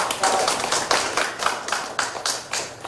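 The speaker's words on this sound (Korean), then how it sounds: "박수 주십시오." Applause from a small audience at an art exhibition opening in a gallery, made of distinct, rhythmic hand claps at moderate distance, steady for a few seconds.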